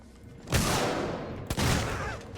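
Gunfire in the video game Alien Isolation: two loud bursts of shots, each followed by a ringing rumble, heard alone with no talk.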